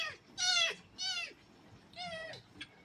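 A cat meows three times in quick succession, fairly close and clear, each cry a drawn-out rising and falling call, with a brief faint chirp at the end.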